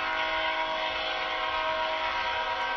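A train rumbles steadily throughout, a loud, dense, continuous roar with no talking and no break in the sound.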